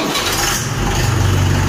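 A Mahindra 575 DI tractor's diesel engine cranks and catches partway through, settling into a loud, steady low rumble close by.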